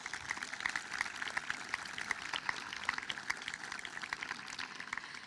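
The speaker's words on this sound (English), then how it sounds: "Class, please give them a round of applause." Faint, distant applause fills a graduation ceremony at the 2017 Peters Township High School commencement, a dense, even crackle of many hands clapping steadily throughout, with no voices over it.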